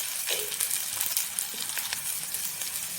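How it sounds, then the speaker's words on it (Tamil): Mustard seeds splutter in hot oil while tempering for adai dosai, a steady sizzling hiss flecked with small sharp pops and crackles, close by and with no voice over it. "கடுகு பொரிய ஆரம்பிச்சிருச்சு"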